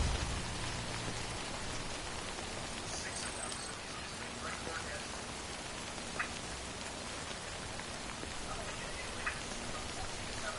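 Timefall rain in the video game Death Stranding, a steady, fairly faint wash of rainfall hiss that continues throughout with a couple of small isolated ticks.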